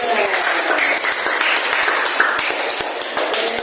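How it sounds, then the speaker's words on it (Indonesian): A room full of students claps together in lively, sustained applause at a school session, close and loud, with a few voices mixed into the clapping. "Tepuk tangan untuk kelompok 2."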